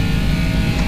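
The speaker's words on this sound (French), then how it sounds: "j'entends un bruit moteur" A loud, steady car engine drone from the racing video game Project CARS in VR, low and continuous, with no pauses or voices.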